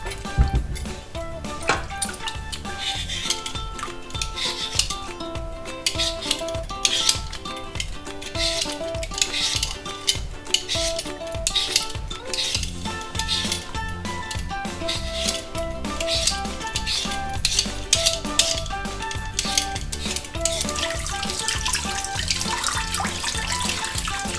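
Maris Piper potatoes peeled at a kitchen sink with running water, a steady stream of rapid scraping strokes under the flowing tap, close and continuous.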